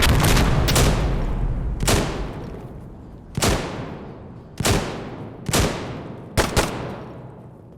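Gunfire in the video game Insurgency: Sandstorm: a sustained burst of automatic fire followed by several loud, separate shots spaced a second or so apart, each ringing out with a long fading echo.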